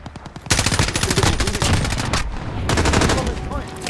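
Rapid automatic gunfire in the Warzone video game on the Verdansk map, loud and close, with dense bursts of shots nearly filling the few seconds, a short gap midway, then more firing.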